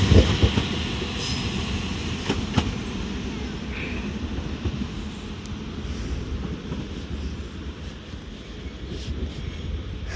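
A Transport for Wales Class 197 diesel train pulls out of Crewe station bound for Manchester Piccadilly, a steady rumbling hum heard from the platform, strongest at the start and easing off.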